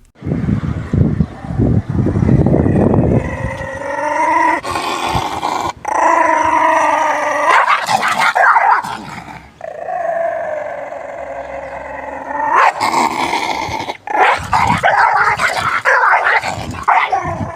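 A dog barks, growls and lets out long drawn howls in repeated stretches, loud and close, with rough growling at the start and wavering howls in between.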